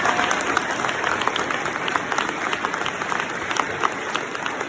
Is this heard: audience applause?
yes